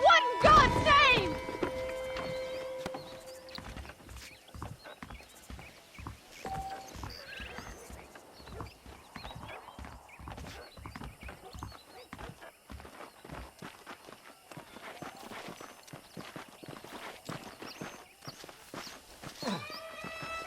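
Horse hooves clip-clopping steadily on the ground in the Western game Red Dead Redemption, a quiet repetitive trotting rhythm throughout after a brief louder burst at the start.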